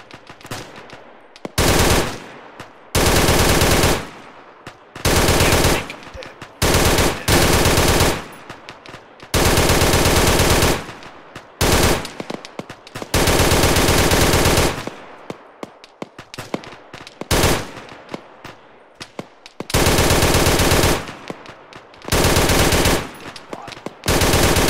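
Gunfire in the military shooter ArmA 3: repeated loud, close bursts of automatic weapon fire separated by short gaps of quieter battlefield ambience, continuing for about twenty-five seconds with no talk.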